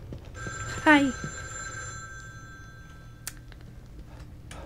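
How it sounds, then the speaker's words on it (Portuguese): A telephone ringing in the video game The Evil Within 2: a single bright, trilling ring near the start that fades into a lingering tone, followed by sparse clicks and a brief exclamation from a person. "Você ouviu um telefone"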